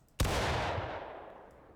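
A Union army musket volley fires in the Civil War game War of Rights: one sharp, loud simultaneous crack of many muskets with a long rolling echo that slowly fades, no voices.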